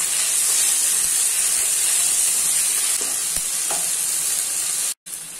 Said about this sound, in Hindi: अभी इसमें स्लाइसेस में कटे हुए टमाटर ऐड कर लेना है और मिक्स कर लेना है।